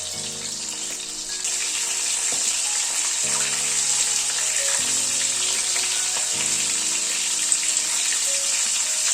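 Loud, constant sizzling of prawns frying in hot oil over a medium gas flame, up close, with faint clinks and a low hum underneath.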